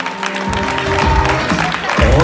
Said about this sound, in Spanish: Fuerte, fuerte ese aplauso.